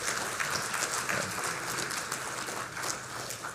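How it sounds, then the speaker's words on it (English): A crowd at a Sri Lanka Medical Association inauguration ceremony claps in a steady, fairly soft wash of applause that sounds somewhat distant and runs for a few seconds. "I believe she deserves a round of applause from all of us."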